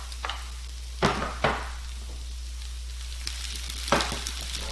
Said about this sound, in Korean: 그러면 채소 넣고 버섯도 넣고